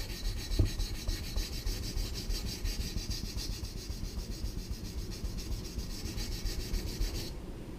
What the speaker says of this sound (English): So with a few light strokes I'm taking that burr off.